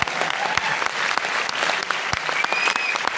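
A seminar crowd claps steadily and energetically, many hands producing a thick, even wash of applause close by, with only faint voices underneath.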